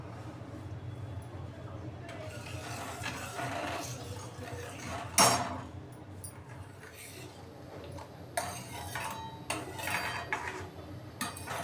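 A spoon stirs milk thickened with cornflour in a pot on the stove for mango ice cream, giving scattered metallic clinks and scrapes over a steady low burner hum, with a sharper clatter midway.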